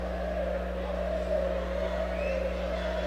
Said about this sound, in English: that cheering section there, a rowdy cheering section, they call it the blackout